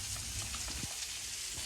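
Fish sizzles steadily in hot oil for a home-cooked Sunday meal, a soft continuous crackle with a few brief pops, close by and with no talking.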